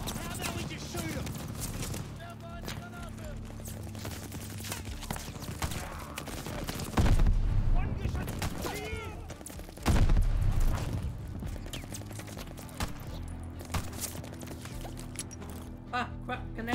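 Gunfire from the Call of Duty Vanguard video game, with bursts and heavy blasts at the Tobruk setting, mixed under game music and voices throughout.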